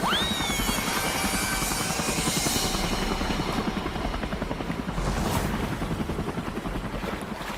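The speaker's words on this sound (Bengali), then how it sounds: "এখনই আমার হেলিকপ্টার ওই বাড়ির কাছে নিয়ে চলো।" A cartoon helicopter flying over a lonely island, its rotor chopping in a loud, steady, rapid pulse with a constant engine whine, close and alone without voices.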